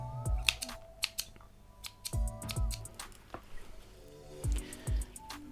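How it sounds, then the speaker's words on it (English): Scissors cut the fresh roots off caladium bulbs with crisp, close snips that come in small bursts separated by quiet pauses. "cut all these fresh roots off right to the bulb"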